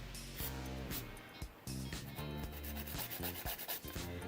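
A polygel nail ridge being smoothed with a hand file, giving quick, close, rhythmic rasping strokes that repeat steadily under a prominent tonal background.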